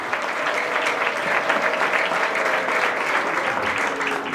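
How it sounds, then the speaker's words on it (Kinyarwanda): A church congregation applauds with a steady wash of many hands clapping, full and even in loudness from start to finish, a few voices faintly audible underneath. "amashyi menshi kwa Yesu"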